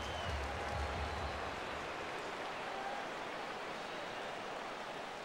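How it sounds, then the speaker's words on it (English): Stadium crowd noise from MLB 15 The Show at a Chicago White Sox versus Milwaukee Brewers game, a steady loud roar of cheering spectators filling the whole stretch without pause. "Crowd gets up for the 3-2"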